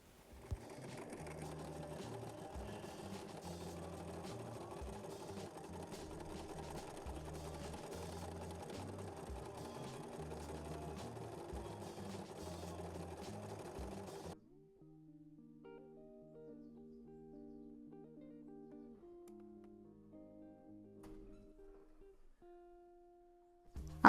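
A sewing machine stitches a fabric glasses case in a steady, rapid mechanical whir for several seconds, then stops, leaving quiet soft clicks and faint tones.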